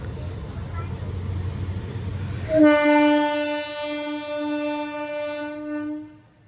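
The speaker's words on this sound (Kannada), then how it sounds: "ಸೊ ನಾವು ಎಷ್ಟೋ ವರ್ಷ ಆದ್ಮೇಲೆ ಟ್ರೈನಲ್ಲಿ ಹೋಗ್ತಾ ಇರೋದು" A passenger train runs along its line out of Bangalore with a low rolling rumble, then its horn sounds loudly and steadily for about three seconds before fading out.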